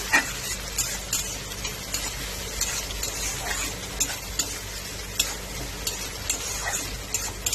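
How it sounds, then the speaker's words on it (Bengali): Chopped onions sizzle in hot oil with bay leaves and whole cumin in a pan for a soybean curry, a steady close crackle with repeated scraping stirs and no talk. "এবার দেব কুচানো পেঁয়াজ"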